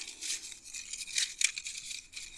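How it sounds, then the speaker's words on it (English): Tarot cards being shuffled by hand, giving a close, crisp riffling and papery crinkle in a few short bursts with no talk. "We'll do one more shuffle here."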